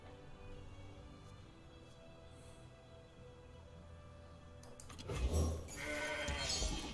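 A goat card from the Legends of Runterra card game lets out a bleat in the closing seconds, loud and near, after a stretch of quiet low game ambience.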